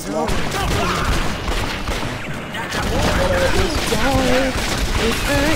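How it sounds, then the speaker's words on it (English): Gunfire in the Red Dead video game, a dense rapid barrage of shots crackling steadily throughout with game effects and a voice talking over it. "Shoot this man, and then shoot that man, shoot this man."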